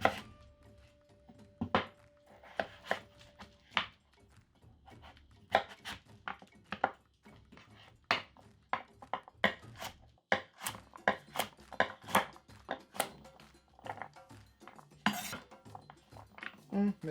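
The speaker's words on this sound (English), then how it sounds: "Butternut squash done, nicely diced." A knife chops butternut squash into dice on a cutting board with a string of sharp, irregular knocks, close and fairly quiet, pausing now and then between bursts of cutting.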